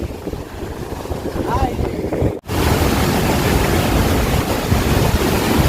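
Gadchandi waterfall in Keonjhar roars with a loud, continuous wash of rushing water, broken by a brief dropout partway through, then resuming even heavier and steadier.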